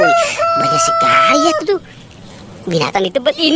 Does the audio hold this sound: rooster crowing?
yes